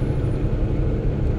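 Brand-new Cummins diesel in a heavy truck on the I-15 Virgin River Gorge, compression braking at around 1800 RPM, makes a steady, loud, deep rumbling drone that holds level throughout with no talking.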